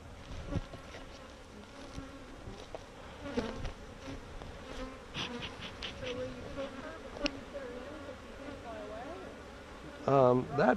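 Honeybees from a colony buzz steadily close by at a lesson, a constant droning hum with people talking intermittently over it.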